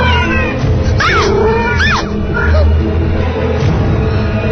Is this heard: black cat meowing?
yes